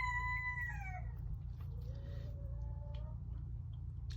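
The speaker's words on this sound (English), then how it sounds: "That's our cockerel in the background." A cockerel crows in the background near a greenhouse: one long, falling cock-a-doodle-doo followed by a softer drawn-out call, moderately distant over a steady low hum.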